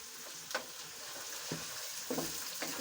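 Vegetables with garlic and tomato frying in a pan: soft continuous sizzle broken by a few scraping stirs and clinks of a utensil, close by, no one talking.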